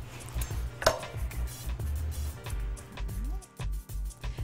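A knife slices an avocado vertically in a kitchen, giving a few soft, close cutting and tapping sounds on a board with a low background hum.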